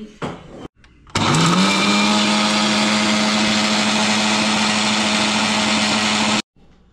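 A kitchen mixer grinder whirs loudly and steadily for about five seconds, grinding spices and peppercorns for a Sri Lankan crab gravy, with a high motor whine that starts abruptly and cuts off cleanly.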